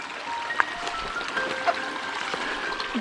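Water bottle dipped into a small trail creek, a soft continuous trickle and gurgle of flowing water close by, with a few faint bubbling blips as the bottle fills.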